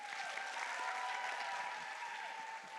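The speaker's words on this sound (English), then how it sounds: "Just give them one more big round of applause" Sustained audience applause at a Bharatanatyam Rangapravesam dance debut, a dense, steady wash of clapping hands that fills the hall evenly for its whole length, with a faint tonal hum running beneath and no speech over it.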